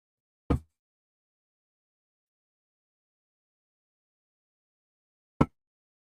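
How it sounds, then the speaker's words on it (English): A metal drinking bottle is handled, making two short, solid knocks about five seconds apart with silence between them. "You can hear that I have a metal bottle right now."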